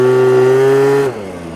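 A Yamaha Aerox 70cc scooter with a leaking exhaust holds a loud, buzzing, high rev close by, then the engine note drops sharply as the throttle closes.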